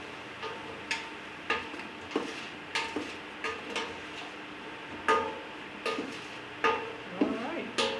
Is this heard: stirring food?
yes